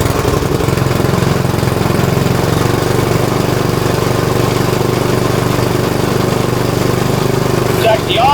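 Tecumseh Snow King snowblower engine running at about half throttle after a carburetor rebuild, a loud continuous close-up chugging drone throughout with a brief voice near the end.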